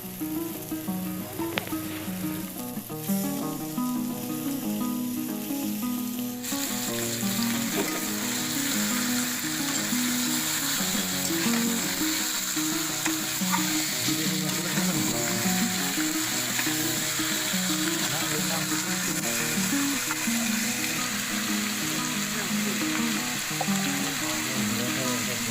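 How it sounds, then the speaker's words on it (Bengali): Cut chicken pieces frying in spice paste in a kadai give a continuous, fairly loud sizzle with bits of stirring and spattering throughout, strongest after the first few seconds, and no one talking. "এবার পিস করা মাংসগুলো আমি কড়াইতে দিয়ে দিব।"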